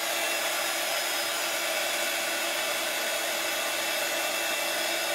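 A dryer runs to dry paint on an altered desk drawer, a loud constant blowing hiss with a thin steady whine, close to the microphone and uninterrupted, with no speech over it.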